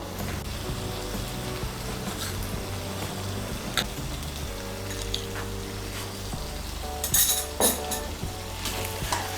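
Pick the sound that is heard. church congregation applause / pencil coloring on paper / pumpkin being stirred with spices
pumpkin being stirred with spices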